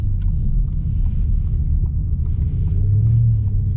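A deep, steady engine rumble from a 720bhp 2020 Audi RS6 exhaust drones on without a break, loud and close, with faint higher clicks over the low roar.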